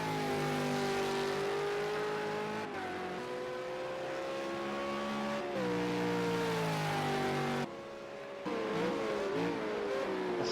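Simulated V8 Supercar engine at full throttle as the car slides sideways through corners at Watkins Glen International GP in a racing video game, a loud continuous roar with rising and falling pitch and a brief lift partway through.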